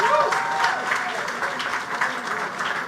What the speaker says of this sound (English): And let's give them a round of applause.